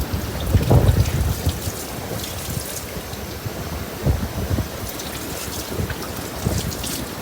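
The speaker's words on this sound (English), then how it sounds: "I'm just going to rinse my hands off real quick." Hands are rinsed under running water while a sheepshead fish is being cleaned, a steady close splashing rush with a couple of heavier gushes and no voices.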